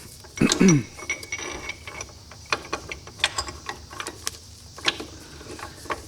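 Chevy 3-speed transmission main shaft being fitted into the case during a rebuild, giving a burst of metallic clanks and scrapes followed by scattered light ticks and clicks of parts seating, close and moderately loud with no talk.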